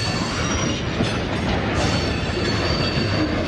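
A freight train rumbles steadily through a rail yard, a continuous dense roll of wheels on track with a faint high metallic squeal, close and unbroken.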